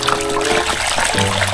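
A Lego toy plunges into water, giving a short trickling splash and dribble under a steady wet wash across a brief moment.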